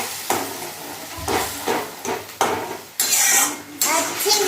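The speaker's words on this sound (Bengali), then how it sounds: "সেই জন্য মশলাটা ভালো করে ভেজে নেবে" A spoon scrapes and clanks rhythmically against a pan while spices with turmeric powder fry for a fish curry with a soft hiss and sizzle, close and busy.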